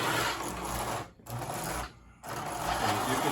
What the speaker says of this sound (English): This is the motor. It's like a 2034 motor.